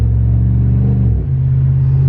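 A Hemi engine in a stock Ram pickup truck with an aftermarket tune, rumbling low and loud as it revs, the pitch dropping briefly at a gear shift into third and then steadying, with no voices.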